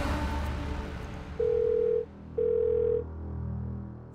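Two long electronic ringback tones on the phone line, each about half a second, separated by a pause, over faint room noise.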